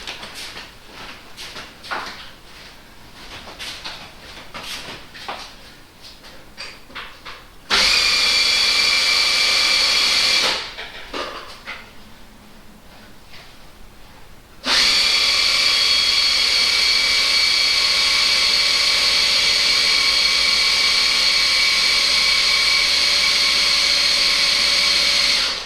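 An electric hydraulic pump on a Mercedes W124 SLS suspension system whines loudly in two bursts, a short run and then a longer sustained one, separated by quieter clicking and handling noises.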